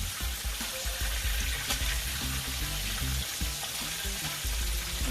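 Flounder fillets frying in a pan for Jamaican escovitch fish, a continuous loud crackling sizzle with no talking.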